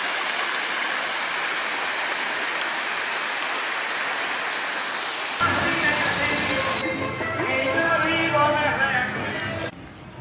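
Small waterfalls in Añasco, Puerto Rico, send a steady broadband rush of flowing water, loud and close throughout. The character changes partway through to a splashier, more textured flow.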